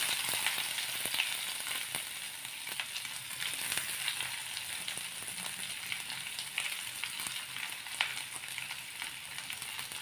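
Onions added to oil with browned garlic fry for black pepper chicken, producing a soft, continuous sizzle with light crackles and occasional stirring clicks, fairly quiet and without voices.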